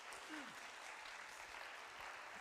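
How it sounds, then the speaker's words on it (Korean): An audience at a lunch-session lecture claps for a professor, a dense, steady wash of applause throughout, fairly close, with a brief voice heard faintly underneath. "한 번 더 박수 부탁드립니다"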